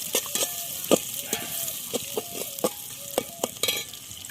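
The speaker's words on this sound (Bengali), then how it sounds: "পেঁয়াজটা হালকা লাল করে ভাজবো।" Sliced onions fry in a pan of oil for a Bengali cabbage, pumpkin and soybean dish: a steady sizzle broken by a dozen sharp scrapes and taps of a stirring spoon, close and alone.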